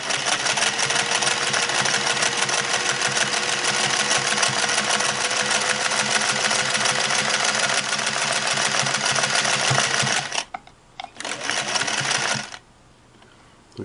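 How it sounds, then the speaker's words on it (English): A Singer Slant-O-Matic 403A sewing machine runs steadily and loudly at close range for about ten seconds with a rapid mechanical whir, then stops, gives a brief restart and falls quiet. "I'll see if just sewing on a raised needle plate"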